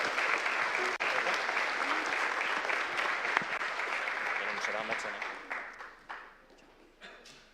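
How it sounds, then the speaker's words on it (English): An audience at a conference closing gives the chairing team a big round of applause, loud and dense at first, then thinning out and fading toward scattered claps at the end. "So big applause for them also"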